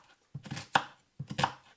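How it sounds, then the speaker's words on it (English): A kitchen knife roughly chops an onion on a board for a venison chilli, two quick bursts of close, crisp thudding strokes separated by a short pause. "very roughly chopping the onion"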